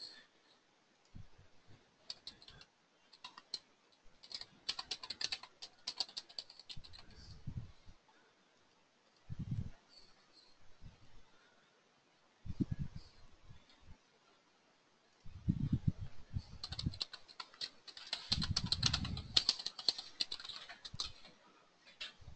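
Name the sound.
typing an email address on a computer keyboard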